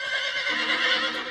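A horse whinnies in a cartoon set during Paul Revere's midnight ride, a loud, sustained neigh running throughout with no talk over it.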